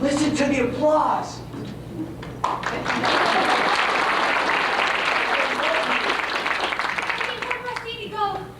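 Junior high school musical audience applauding: after a short sung phrase and a brief lull, dense clapping swells and fills the hall for several seconds, then thins as voices return.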